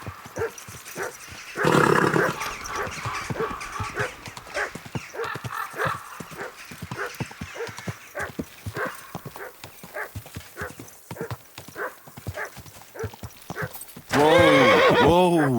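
Steady clip-clop of hooves in a rhythmic trot in the video game Kingdom Come: Deliverance II, with a loud horse whinny at the start and another at the end.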